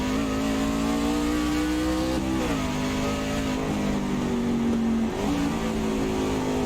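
Racing kart engine at The Roval droning loud and close at high revs, then dropping pitch in stepped downshifts as it slows for a sharp right-hand turn, steady and continuous with no talk.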